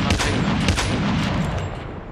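Dense, continuous rumbling gunfire and explosions from a Call of Duty Mobile battle royale fight, shooting at a tank, loud and sustained with no clear gaps.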